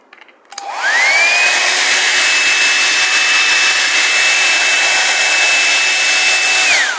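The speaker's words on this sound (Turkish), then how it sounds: "şöyle bir saç kurutma makinesiyle daha çabuk kurumasını sağlayabilirsiniz" A hair dryer switches on with a rising whine and blows steadily at close range, then begins to wind down at the end.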